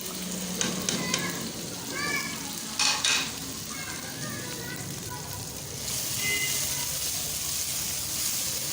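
Spices frying with softened tomatoes in a pan over low heat, a steady sizzle with occasional stirring clinks and scrapes, a voice speaking over it at moments.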